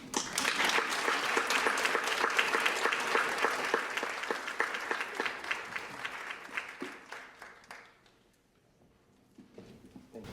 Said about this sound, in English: Now it's photo time and applause time.